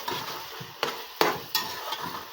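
Minced keema stirred with salt in a frying pan: a steady sizzle broken by four sharp spoon scrapes and clatters, close and fairly loud.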